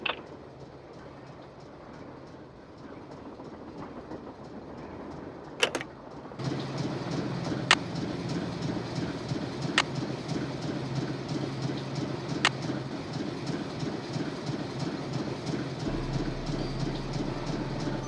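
A moving train rumbles steadily in the Nancy Drew game, a low continuous roll that swells after a sharp clunk, with periodic metallic clacks recurring every couple of seconds.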